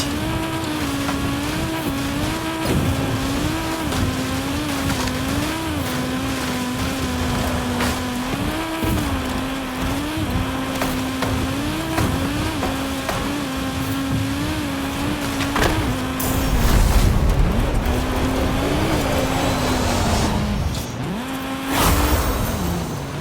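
Level 6 Porsche 959 Rally Raid racing in a video game, its engine droning steadily with rising and falling revs through gear changes, tires squealing and gritty rumbles midway, loud and continuous with no talk.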